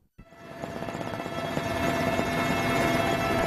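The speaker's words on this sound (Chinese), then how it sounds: "把直升机的高度从300米降到30米左右" A military helicopter descending low over trees, its rotor thump starting abruptly and quickly swelling into a loud, steady engine and blade roar that fills the whole moment without any voices.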